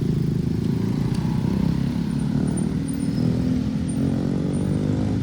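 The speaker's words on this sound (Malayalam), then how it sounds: "ഈ ജക്കാർത്ത സിറ്റിയിലായാലും ബൈക്കുകൾ തന്നെയാണ് കേട്ടോ കൂടുതലായിട്ടുള്ളത്" Motorbikes pass along a Jakarta street on an evening bicycle ride, making a steady, continuous engine drone with traffic rumble that stays even throughout.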